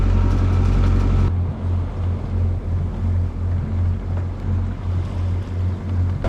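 A sailboat motors across the Atlantic Ocean, its engine droning low and steady under rushing wind and sloshing waves, with a loud wash of water at the start.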